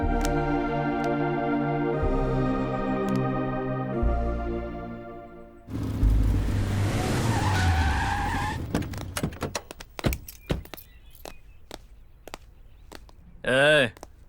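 A car skids to a stop with a burst of harsh tyre noise and a sliding squeal after music cuts off, followed by a few thuds and brief voices.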